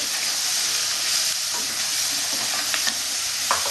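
Cumin paste frying in a hot pan for Bengali-style cabbage, a steady close sizzle with faint stirring scrapes throughout.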